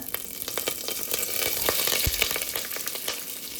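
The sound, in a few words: frying fennel seeds, onion and curry leaves in oil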